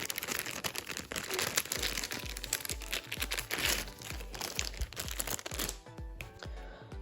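Sunglasses are pulled out of a crinkly plastic bag, close rustling and crumpling over several seconds with soft thumps beneath, ending in quieter handling.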